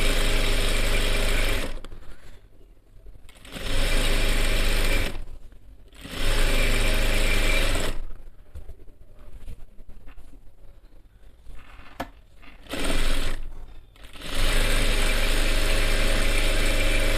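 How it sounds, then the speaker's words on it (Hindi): An industrial sewing machine runs long straight stitching runs on a Jodhpuri coat, several sustained mechanical whirring bursts separated by short pauses, loud and close with no talking. "इस पर लंबी सिलाई मारनी है।"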